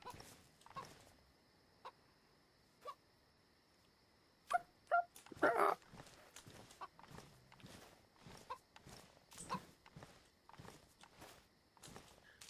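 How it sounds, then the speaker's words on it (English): Chicken in the DayZ video game clucking in short, sparse bursts in a dark outdoor scene, with footsteps and other game sounds around it, fairly quiet overall. "I can hear you clucking."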